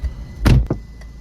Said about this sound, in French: Et ferme la porte.